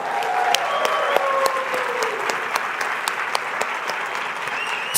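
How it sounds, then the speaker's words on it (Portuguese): Dense audience applause fills the room at a business event in Brazil, steady and loud with many overlapping claps and occasional faint voices and whistles mixed in. "Salva de palmas aqui, sócio, amigo, Pablo Marçal."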